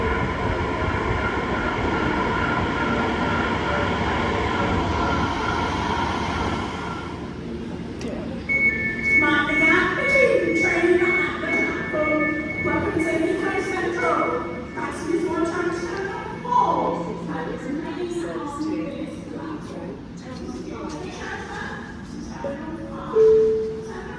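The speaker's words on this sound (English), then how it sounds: "Please stand back from the platform edge as the next train approaches." An airport train rumbles in and slows at a platform at Heathrow Terminals 2 and 3, London, its roar giving way to brakes and a tonal whine while people speak nearby.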